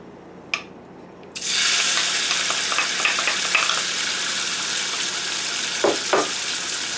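Tofu drops into hot oil and erupts into a loud, steady sizzle that fills the space, with a couple of brief knocks near the end.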